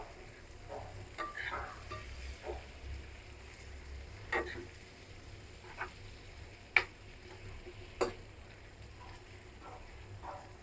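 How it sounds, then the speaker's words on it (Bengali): A potato, eggplant and lentil fritter mixture fries quietly in a pan, a soft continuous sizzle broken by a few sharp clicks and scrapes of a utensil, no voices. "খুব সুন্দর করে ভাজতে হবে বন্ধুরা"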